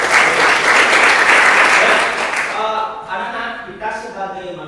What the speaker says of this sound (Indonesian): Berikan tepuk tangan untuk siswa kita.